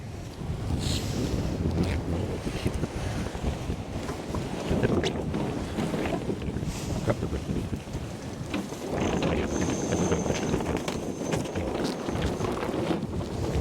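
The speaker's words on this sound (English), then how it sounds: "It's going through a tack." A Hallberg Rassy 69 sailing yacht tacks under sail, with steady wind buffeting and water rushing along the hull throughout, loud and continuous, no voices.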